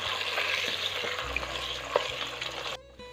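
Capsicum (shimla mirch) frying lightly in a pan as the first step of an aloo shimla mirch gosht dish, a steady close hiss of oil with scattered crackles and stirring clicks that suddenly drops away near the end.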